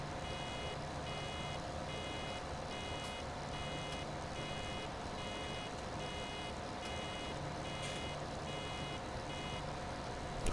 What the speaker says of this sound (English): I think it's only half full when it starts beeping.